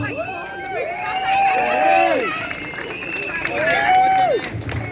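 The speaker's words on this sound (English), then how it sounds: "Give him a round of applause." A crowd at an outdoor yellow vest demonstration by the O'Connell Street monument claps and cheers for a speaker, a broad rolling wash of applause mixed with raised voices and shouts.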